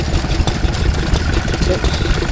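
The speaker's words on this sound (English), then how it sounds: "Looks to be a Lister D. Would be powering a water pump today." A Lister D stationary engine powers a water pump at a rural show. It runs with a steady, rough, low chugging close by, mixed with outdoor background noise.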